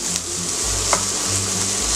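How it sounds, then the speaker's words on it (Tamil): Chopped onions sauté in a pan for an egg and drumstick-leaf stir fry, a continuous close sizzle with soft stirring scrapes running through the short stretch. "வெங்காயத்தை நல்லா வதக்கி விட்டுக்கோங்க."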